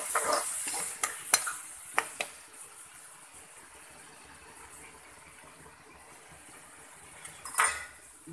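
Masala of blended tomatoes and yogurt sizzling softly in a hot pan for egg biryani, with a spoon stirring and knocking against the metal several times at the start and near the end.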